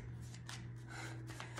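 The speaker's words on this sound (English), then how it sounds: "Three shuffles and we're done." A deck of tarot cards is shuffled by hand in a quiet room, a few quick riffling bursts at close range with soft gaps between them.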